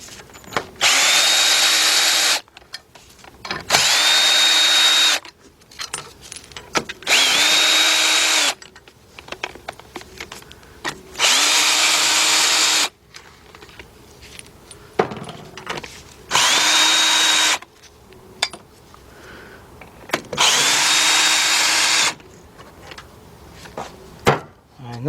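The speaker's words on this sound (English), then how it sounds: "take my cordless gun" Cordless impact gun spinning out intake manifold bolts on a 2004 Chevy Monte Carlo 3.4 V6, loud close bursts of about two seconds each, roughly eight of them with quieter pauses and small clanks between.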